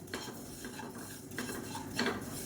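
Cumin seeds dry-roasting in a pan, stirred with a metal spoon that gives a few soft clinks and scrapes over a quiet, faint background.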